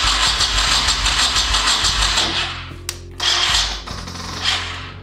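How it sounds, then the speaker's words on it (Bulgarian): An old car engine with 3.3 litres of oil in it cranks and catches, then runs at a rough, loud idle. Near the end the revs drop briefly and then pick up again. "Сега да запалим и да напълним масления филтър."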